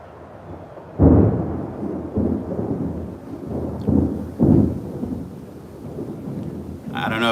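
Thunder from a Tampa, Florida afternoon thunderstorm booms in several separate rumbling bursts of varying strength, with steady rain noise underneath between the claps.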